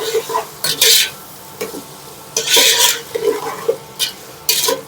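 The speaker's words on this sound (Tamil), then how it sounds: "உப்பு போட்டதுக்கு அப்புறம் நல்லா கிண்டி விட்டுக்கலாம்" Onions with salt are stirred in a frying pan, with repeated scraping strokes in uneven bursts over a soft, continuous sizzle, close and clear.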